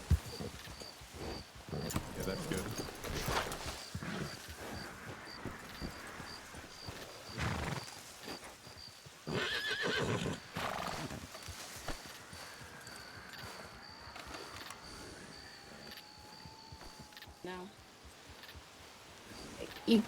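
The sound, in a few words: horses neighing and hooves clip-clopping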